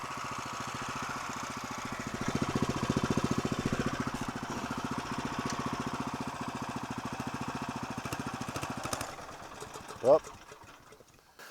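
A Honda GX390 small engine runs at a steady pulsing idle with a rhythmic putter, then stumbles and cuts out under load, while someone talks over it.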